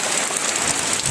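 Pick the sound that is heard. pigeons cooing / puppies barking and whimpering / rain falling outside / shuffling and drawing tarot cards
rain falling outside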